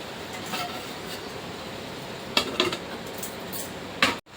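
A lid clatters onto a cooking pot of potato and fenugreek curry in a home kitchen, a few sharp metallic clinks and taps over low background hiss, then a final clunk.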